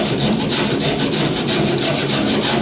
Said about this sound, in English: I'm just going to get a rasp out and clean up a bit